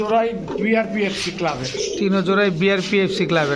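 Racing pigeons coo close by in repeated, rolling, throaty phrases that overlap one another without pause.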